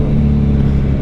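A 2024 Suzuki Hayabusa 25th Anniversary motorcycle engine runs with a loud, steady low rumble and a slight rising rev, close by and without talk over it.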